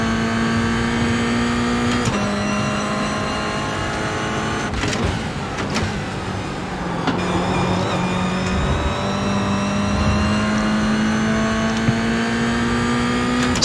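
Toyota GR86 race car engine in an iRacing sim battle, a steady high-pitched drone that rises and falls with throttle, with brief shift breaks and revs building again, loud and continuous throughout.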